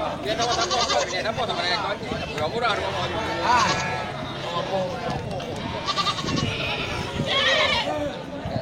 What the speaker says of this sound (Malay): Itu 2 ekor kambing betina